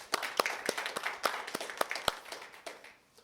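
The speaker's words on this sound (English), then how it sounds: "Let's give him a round of applause" Small audience at a business talk on bidding in the GC/CM environment applauding a speaker, a thin patter of individual claps with distinct sharp hits nearby, tapering off toward the end.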